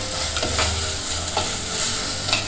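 Masala sautés in a pan with a steady, close sizzle while a spatula stirs it in quick, soft scraping strokes, with no voices present.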